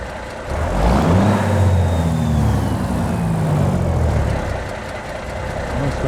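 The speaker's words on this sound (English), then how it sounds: "Oh, it's got a beautiful idle." Cummins Big Cam 3 400-horsepower diesel truck engine in American Truck Simulator idling outside the cab, a loud, steady low rumble with a faint whine drifting above it throughout.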